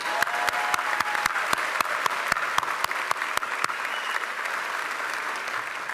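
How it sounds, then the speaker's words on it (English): An audience applauds at a Temple University College of Engineering graduation ceremony, a few sharp nearby claps standing out from a steady wash of crowd clapping. "one more round of applause is good"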